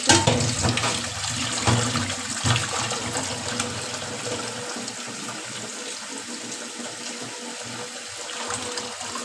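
Tap water runs steadily while a fish is rinsed at a kitchen sink, a close broadband splashing that is strongest at the start and eases to a softer, even flow.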